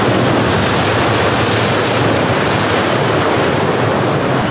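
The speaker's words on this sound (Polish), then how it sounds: "Ale leci fala, patrz." Loud, continuous Atlantic surf crashes onto the Madeira shoreline close by, churning and hissing without pause while wind rumbles against the microphone.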